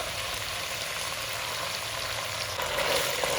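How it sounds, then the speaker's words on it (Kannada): Mutton frying in a pan with ginger garlic paste, a steady loud sizzle and crackle that swells slightly near the end, heard alone without talk. "ಇಲ್ಲಿ ಮಟನ್ ಕೂಡ ಚೆನ್ನಾಗಿ ಫ್ರೈ ಆಗಿದೆ"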